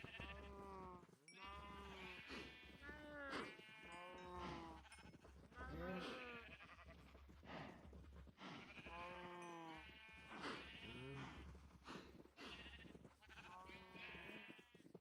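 Sheep in the Minecraft video game bleat repeatedly in quavering, wavering cries that overlap and follow one another across the stretch, with a low steady hum beneath.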